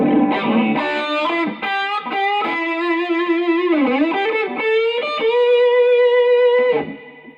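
Thick, fuzzy electric guitar through a Big Muff fuzz pedal plays a legato melodic line with bends and long sustained notes, saturated and buzzy, ending as the last note cuts off.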